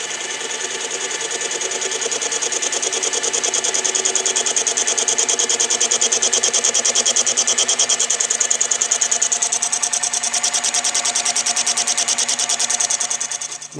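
A metal lathe runs steadily while facing a part held against a live center, giving a continuous, fairly loud mechanical whir with a fine rapid chatter throughout, alone and without talk.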